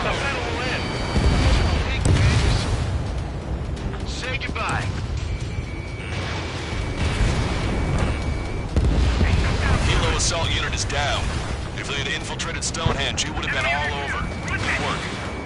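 Gunfire and heavy cannon fire boom and rumble in the Ace Combat 7 flight combat game, dense bursts of explosions and shots rolling continuously over engine noise while voices speak over the battle.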